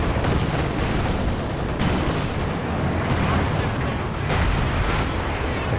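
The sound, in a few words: Katyusha rocket artillery fire in video game Company of Heroes 2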